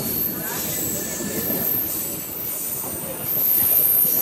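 A MEMU passenger train on the Tirupati to Tiruvannamalai line rolls along with a steady broadband rumble of wheels on rails and a faint high squeal above it. The sound stays close and continuous, with a few faint voices in the background.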